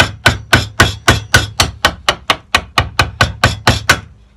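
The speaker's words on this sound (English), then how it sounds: "So initially, to start chiseling, I turn the chisel up that way. And I start at the top of the timber" A hammer taps a chisel into timber to cut a tee halving joint, about seventeen sharp, evenly spaced knocks in quick succession, close and clear with nothing else heard.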